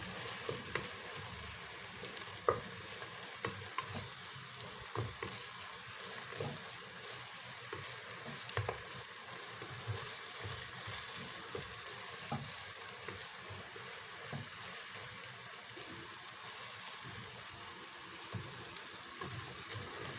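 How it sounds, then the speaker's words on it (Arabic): Onions frying in a pan for a Moroccan-style orzo and chicken dish, a steady dense sizzle with scattered crackles and occasional scraping stirs, close and continuous with no talk. "هي البصل ديالنا تقلات"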